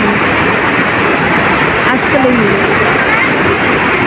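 A waterfall roars in the open air, a dense steady rush of falling water heard nearby, with a voice speaking briefly underneath.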